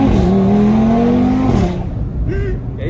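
A stage 2 tuned Audi TT RS engine revs loud and close, a rising drone that drops off into crackling pops and bangs as the revs fall.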